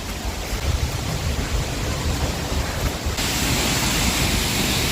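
Kvernufoss waterfall near Vik, Iceland, roars as a loud, continuous, close wash of falling water, with wind buffeting the microphone.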